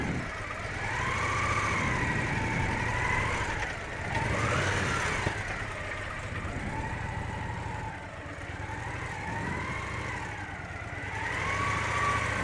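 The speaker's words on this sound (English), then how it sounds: "Now I'm going to put her on this Victory. It's a pretty big bike." A large Victory motorcycle pulls away from a stop as the clutch is let out and rides into a tight circle, its mid-pitched engine rising and falling in steady swells throughout with no talking.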